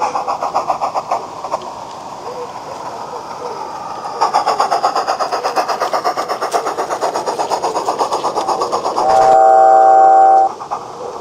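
A miniature railway train on the Peckforton Light Railway pulls away from Beeston Castle station with its locomotive barely running. Steady, rapid chuffing builds in strength, then a sustained whistle-like tone sounds near the end.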